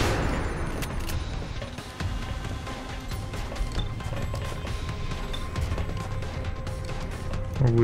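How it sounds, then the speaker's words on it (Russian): Gunfire in the turn-based strategy game XCOM: Long War, a dense barrage of rapid shots and crashing impacts rattling on without pause, loud and close, ending in a heavier burst. "Давайте выстрел сюда."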